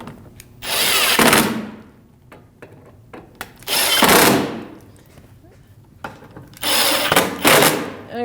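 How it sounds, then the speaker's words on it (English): A cordless power tool with a 10mm socket snugs up headlight bolts on a 2010-2024 Toyota 4Runner, three whirring bursts of about a second each with quieter handling noise between, close. "I'll take my 10mm socket and I'm going to snug these all up."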